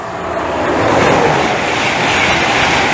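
Class 91 electric locomotive-hauled train racing past Stevenage on the East Coast Main Line: a loud, close, continuous roar of wheels and rushing air filling the whole stretch without any voices.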